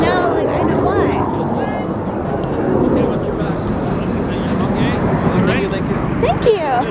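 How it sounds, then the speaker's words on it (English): Aircraft at the CNE air show drone and sweep overhead in rising and falling passes under crowd noise and nearby chatter, with a louder pass near the end. "There's like planes going everywhere, so loud."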